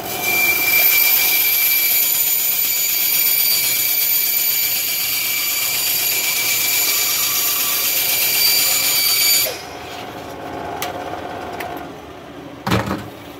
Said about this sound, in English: So I'm going to cut the fingers off of it.